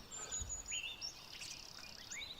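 Birds in the woods give faint, scattered high chirps and short whistled calls over quiet background hiss, with no voices.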